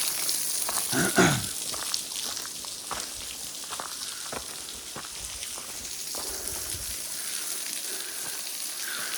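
Ice-cold stream water near ancient cliff dwellings, a steady hissing rush of flowing water with scattered splashy ticks, moderately loud and continuous, no voices.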